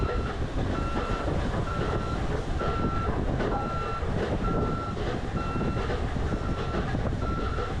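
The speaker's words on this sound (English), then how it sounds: "I'm gonna back up there and wheel lift it." A tow truck backing up gives off a steady, evenly spaced series of reversing beeps over a loud, rumbling engine idle, close and continuous throughout.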